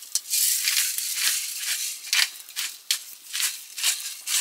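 Pepper is ground over a cheese and onion mixture, a hand grinder's dry, rhythmic crunching in repeated short bursts, close and fairly loud with no talking.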